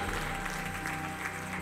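A church congregation applauds during a service, a short, even roar of many clapping hands over a low electrical hum.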